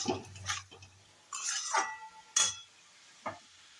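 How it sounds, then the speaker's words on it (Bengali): Bay leaves and dried chillies in hot oil stirred in a pan in a home kitchen: about four separate scraping strokes of a spoon against metal, close and fairly quiet, with a faint sizzle between. "তো চলুন এটা ভালো করে নাড়াচাড়াটা করে ফেলি।"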